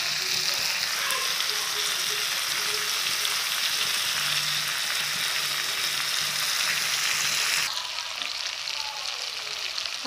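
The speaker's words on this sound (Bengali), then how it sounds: "আলুগুলোকে আমি খুব ভালো করেই হচ্ছে ভেজে নিব।" Potatoes fry in a wok with a steady, close hiss of hot oil that holds for several seconds, then drops to a softer, thinner sizzle near the end.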